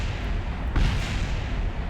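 A dull explosion thumps once in Kerbal Space Program during a spacecraft landing, rising briefly over a steady, loud background rumble that continues throughout.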